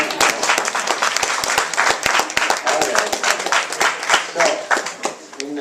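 An audience at a talk on gravitational waves breaks into loose applause, individual claps clearly separated and fairly close, with voices audible underneath.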